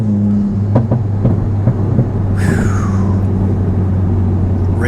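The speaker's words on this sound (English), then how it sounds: "you can actually hear the turbo spool up a little bit more too" A VW MK8 GTI with a Milltek race exhaust idles with a steady low drone, then its turbo spools up in a rising whistle around the third second, over a deep exhaust rumble close by.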